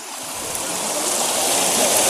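Cold stream water at Bada Mahadev temple in Narsinghgarh flows and rushes steadily, a loud, close, continuous wash that swells slightly.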